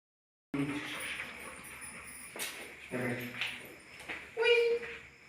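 Small dogs whimpering and yipping in short, high cries, close by, with some background voices and rustling.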